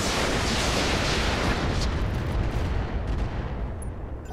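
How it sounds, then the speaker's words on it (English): An artillery barrage in the BattleTech-based video game Roguetech makes a dense, loud roar of overlapping explosions and rumbling impacts that slowly tapers off toward the end, with no talk. "I'm hoping that the barrage finishes that thing up."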